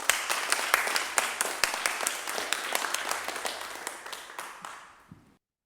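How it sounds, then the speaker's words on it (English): A small group applauds, scattered distinct claps in a quick uneven rhythm that gradually thin out and fade to silence over several seconds. "Could I please have another round of applause for this, because making this happen remotely is so much extra work."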